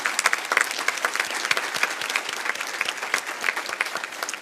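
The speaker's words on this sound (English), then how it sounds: "Can we please have a round of applause for our sponsors?" An awards ceremony crowd at the 2017 ATHENA Award event applauds its sponsors, a full, continuous wash of many hands clapping at close range.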